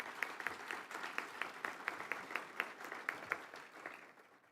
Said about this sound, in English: Let's give that group a round of applause as well.